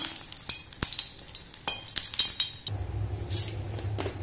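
Oil crackles and sizzles in a hot pan, with sharp metallic clinks of a utensil against the pan at first, then a steady frying hiss.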